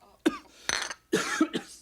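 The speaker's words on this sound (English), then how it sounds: "that cough doesn't sound so healthy to me" A person coughs several times in quick, harsh bursts, close and fairly loud, in a quiet indoor setting with no talking.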